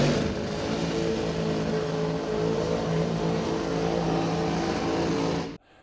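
A drag racing gasser's powerful engine roars loudly and continuously as it accelerates hard down a drag strip, then cuts off abruptly at the end.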